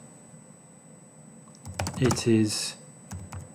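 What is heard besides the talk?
typing on a computer keyboard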